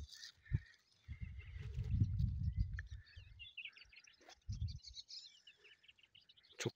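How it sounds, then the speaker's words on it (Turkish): Birds chirp and sing in a grassy cemetery among pine trees, with scattered faint calls and trills over low rustling and handling noise nearby. "Çok güzel kuşlar ötüyor."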